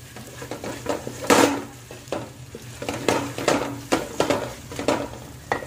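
A spoon stirs and scrapes vegetables with dried fenugreek (methi) in a frying pan while making veg fried rice, giving rhythmic metallic scraping strokes over a soft sizzle, close and fairly loud, with no talking.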